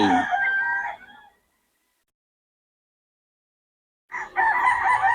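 Gamefowl chickens crow and cluck in two loud bursts separated by a few seconds of silence, close to the listener.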